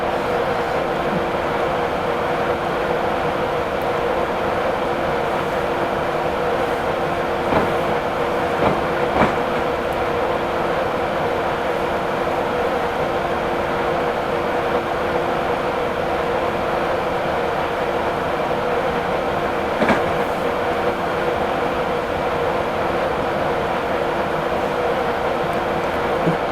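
A train runs steadily in Train Simulator 2017 on a VTEC Remembrance service, a continuous even rumble with faint periodic clicks of wheels over rail joints and no voices.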